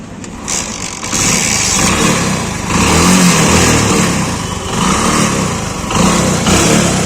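A DC-ignition motorcycle that runs only while its battery holds charge starts up, and its engine is revved up and down in several swells. The sound is close and loud, with no talking.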